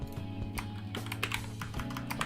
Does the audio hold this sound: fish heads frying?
no